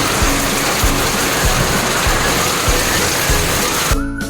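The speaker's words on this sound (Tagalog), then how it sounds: "Talaga naman napakalakas ng ulan sa likod ng bahay namin." Heavy rain pours steadily behind a house, a loud dense wash of noise with regular low thuds, ending abruptly near the close.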